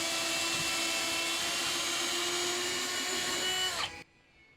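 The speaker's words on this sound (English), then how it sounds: "drill a little bit and then clear the chips out of the flutes from the drill" A power drill bores into a wooden dock piling with a loud, steady high whine that holds for about four seconds, then cuts off abruptly, leaving quiet.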